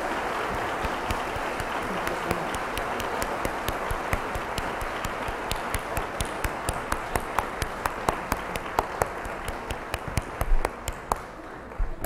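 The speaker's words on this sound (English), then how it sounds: "Let's applaud." An audience applauds after a lecture on race and medicine, steady dense clapping that continues for the whole stretch, with a few sharper individual claps standing out toward the end.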